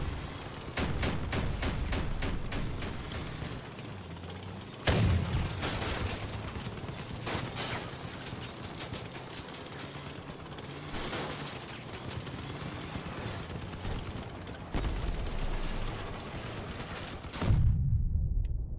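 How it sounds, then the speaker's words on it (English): A burst of heavy gunfire from a combat vehicle in the game Crossout, with dense rapid shots and sharp loud impacts punching through a sustained battle din, including a hard hit near the end. "Oh, I got hit by a cannon."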